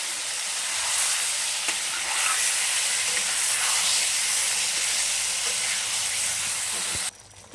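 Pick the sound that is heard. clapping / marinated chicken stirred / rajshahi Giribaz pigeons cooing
marinated chicken stirred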